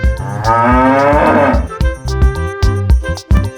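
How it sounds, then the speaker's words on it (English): A cow moos loudly and close by, first in one long, drawn-out low call and then in several shorter, clipped moos in an uneven rhythm, with no talking over it. "The cow says moo moo."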